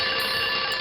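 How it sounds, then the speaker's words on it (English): An alarm clock rings loud and close in a continuous harsh metallic rattle that fills the whole moment without pause. "An alarm clock? That's a great idea."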